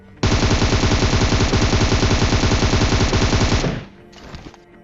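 Rapid automatic gunfire from a video game battle, a loud sustained burst of evenly spaced shots lasting about three and a half seconds, then cutting off into a fainter, shorter rattle.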